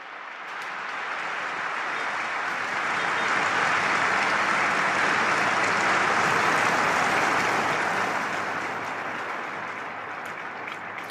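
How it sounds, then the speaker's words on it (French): A vast outdoor crowd in St. Peter's Square applauds a cardinal's homily at Pope Francis's funeral, a dense sustained roar of clapping that swells in the middle and eases slightly toward the end. "L'homélie applaudie du cardinal Giovanni Battistare"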